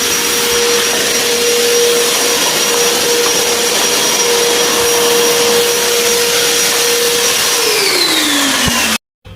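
A vacuum cleaner runs loud and close while a washroom is cleaned, a steady high whine with a constant tone that drops in pitch near the end before cutting off abruptly.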